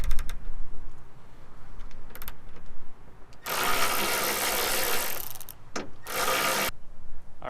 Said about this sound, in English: So we're going to start getting these bolts out.